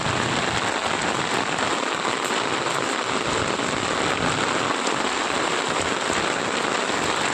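Dense, steady roar of very heavy rain pouring down and drumming on surfaces over farm fields in Banaskantha district, Gujarat, loud and unbroken throughout, with no voices.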